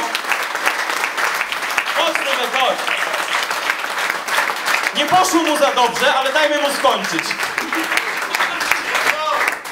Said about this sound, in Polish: Wielkie brawa dla naszego prowadzącego.